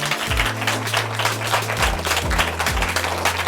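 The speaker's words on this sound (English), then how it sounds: "So give him a round of applause for that." An audience claps steadily in a round of applause at a public library event in South Boston, Virginia, with a dense, even patter throughout and low tones running underneath.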